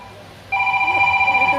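A telephone starts ringing abruptly with a steady electronic trill, loud and close, after a moment of quiet background.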